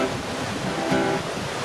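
Rushing river and wind outdoors, a loud continuous broadband wash of water and gusting air filling the short stretch, with no voices.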